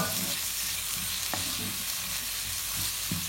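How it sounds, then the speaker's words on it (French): Two onions cook in a pan for spiced pilau rice, giving a steady close sizzle with scattered utensil scrapes and taps as they are stirred. The sound carries on at an even level throughout, with no talking. "on laisse cuire les oignons"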